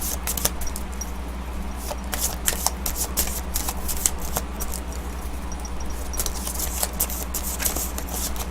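A deck of tarot cards is shuffled by hand in quick, repeated riffles and flicks, a crisp papery patter close up over a low steady hum, with no talk.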